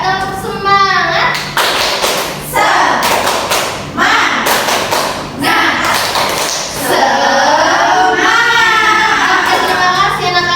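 Schoolchildren in an elementary classroom clap a rhythmic spirit clap in bursts of loud, sharp hand thumps, with children's voices chanting and shouting between and over the claps.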